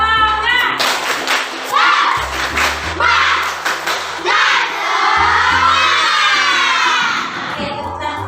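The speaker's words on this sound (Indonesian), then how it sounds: "Oke, tepuk semangat." Students join in a rhythmic spirit clap in a classroom, bursts of patterned group clapping and thumps mixed with children's voices calling out and chanting along.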